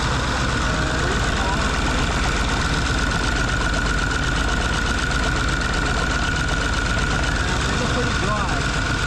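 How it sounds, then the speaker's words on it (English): A 6.4 Powerstroke diesel truck idles loud and close with a steady low rumble and a constant knocking clatter, one that is said to have an oil-in-fuel problem. "we got the truck running for about a couple minutes now"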